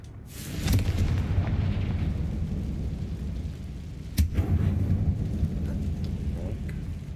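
Confringo fire-spell blasts inside an abandoned mine in Hogwarts Legacy, booming low explosions with a sharp crack near the start and another midway, followed by a long rumbling roar, with no talk.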